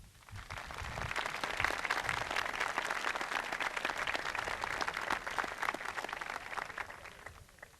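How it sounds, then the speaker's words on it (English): Audience applause for parents at a 1989 high school commencement, a dense, sustained crowd clapping that swells in quickly, holds steady and loud for several seconds, then begins to taper off. "And I would like a round of applause for all the parents."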